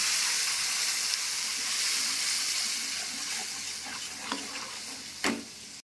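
Cumin, coriander, green and red chillies, salt, turmeric and onion sizzle in hot oil in a pan, a steady close hiss with a few sharp stirring scrapes and clinks near the end.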